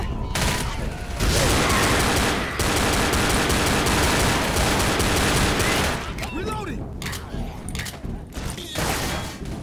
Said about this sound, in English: these dual pistols really rock